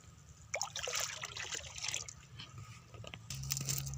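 A liquid organic treatment trickles and splashes steadily onto the ground at the base of an areca palm sapling for several seconds over a low, constant mechanical hum.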